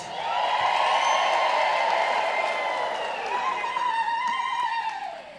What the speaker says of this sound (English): Can I hear some ululation from the crowd?